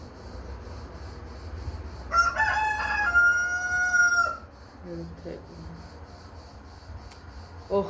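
A domestic rooster crows once, loud and near, a long drawn-out call with a rising then sustained tone, with faint clucking and outdoor background noise following.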